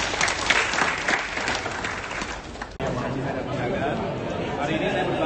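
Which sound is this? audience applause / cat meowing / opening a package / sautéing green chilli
audience applause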